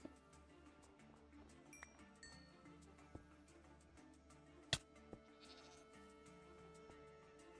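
A goat in the Minecraft video game gives a faint bleat or two against steady in-game ambience, with a couple of soft clinks scattered through the quiet background.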